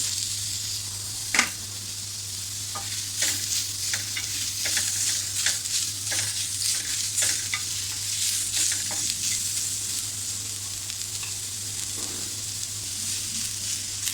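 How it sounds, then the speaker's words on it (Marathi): Onion sautéing in a hot pan for a Malvani black-eyed bean and potato dish, a steady sizzle with repeated sharp spatula scrapes and stirs over a low hum, no voices. "कांदा थोडा आपण असा गुलाबी रंग येईपर्यंत परतून घेऊया"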